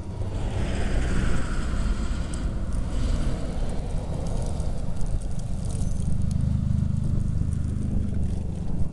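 Wind roars outdoors on a snowy, cold winter day in Kincardine, Bruce County: a continuous, heavy, blustery rush with low rumbling buffeting and no let-up.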